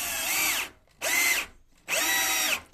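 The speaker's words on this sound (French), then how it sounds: "maintenant on va visser le châssis PVC" Three separate bursts of a power screwdriver driving star-head screws into a PVC window frame during an installation, each whine lasting under a second with short pauses between, close and loud.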